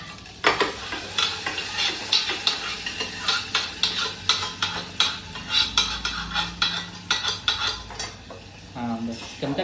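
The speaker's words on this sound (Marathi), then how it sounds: "चमचा फिरव त्याच्यात" A spoon stirs dal in a metal pot with rhythmic clinking and scraping strokes, close and fairly loud, over a light sizzle, with a brief voice near the end.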